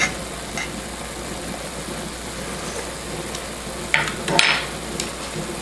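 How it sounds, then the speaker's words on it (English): Carrots sautéing in a pan as part of a chicken piccata dish, a steady soft sizzle running throughout with a couple of brief clinks and stirring scrapes near the end, no voices. "All you're going to do is saute."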